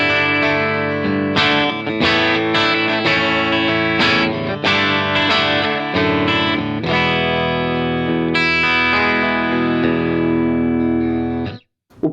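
Clean electric guitar through a Strymon Iridium on its Plexi Marshall amp setting with room reverb off, playing loud, close chords and single notes that ring out before a final sustained chord cuts off.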